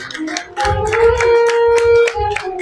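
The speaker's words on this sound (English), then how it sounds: "give yourselves a round of applause" An audience at a women's charity gathering claps in scattered, fairly close rounds while a sustained tonal hum or music runs underneath.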